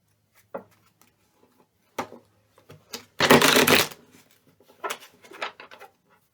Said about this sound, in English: Want to pull some cards for you?